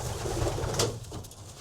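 A racing pigeon coos close by, a soft throaty rolling call over low background noise.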